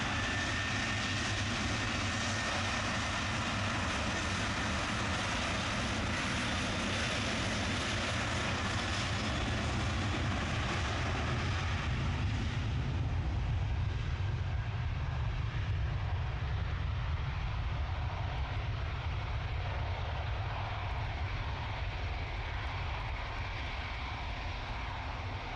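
Aircraft engines roar at Manchester Airport, a loud, broad, continuous rumble that holds steady throughout with no voices, the higher hiss easing slightly halfway through.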